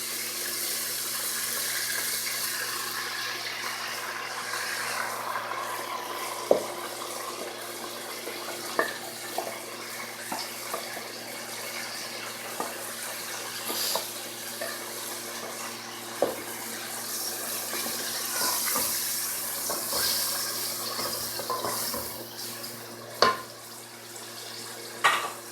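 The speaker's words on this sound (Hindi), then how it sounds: "हुण मैं इहदे विच डाल दिंदी हाँ प्याज।" Onions frying in ginger garlic paste in a pan make a continuous bright sizzle and hiss, broken by scattered clicks and scrapes from stirring.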